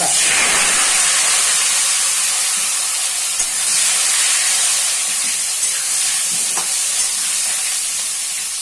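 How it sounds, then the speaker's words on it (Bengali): Potatoes coated in salt, turmeric and chili fry in hot oil, giving a steady, dense, close hiss with light crackles that slowly eases across the stretch, with no talking. "তেলটা গরম হয়ে গেছে, আমি নুন হলুদ আর একটু লঙ্কা মাখিয়ে আলুগুলো ভেজে নেবো।"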